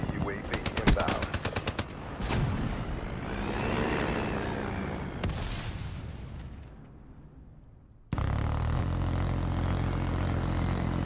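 A friendly UAV aircraft sweeps overhead in Black Ops 3 domination, a swelling, droning flyby that rises and fades amid rapid machine-gun bursts and gunfire, ending in a sudden loud burst of battle noise.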